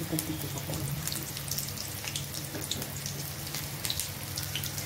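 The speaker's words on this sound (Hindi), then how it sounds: "थोड़ा थोड़ा बैटर ये डालते जाऊँगी फ्राई करके दिखाती जाऊँगी" Small spoonfuls of spring onion pakoda batter frying in hot oil, a steady close crackle and sizzle running evenly throughout with no talk.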